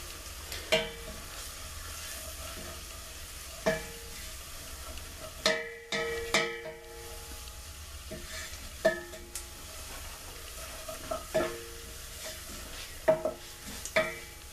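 Spoon scraping and tapping in a pan while stirring a mixture for creamy cheesy scalloped potatoes, with intermittent sharp clicks against a low steady background, no one talking.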